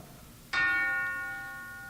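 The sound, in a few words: big bell striking one o'clock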